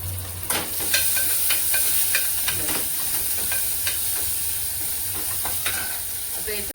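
Potato bhaji batter fritters fry in very hot oil, giving a loud, close, continuous sizzle with occasional sharper crackles and stirring clicks throughout.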